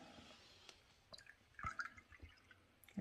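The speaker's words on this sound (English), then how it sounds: "I'm going to add the rest of the water" Water being poured into a bowl of upholstery paint to thin it, heard as quiet, scattered drips, splashes and wet sloshing with no one speaking.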